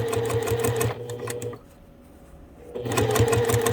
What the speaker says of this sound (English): we're just going to, once again, start a few stitches, and then we just start lining the fabric up as it's going under the needle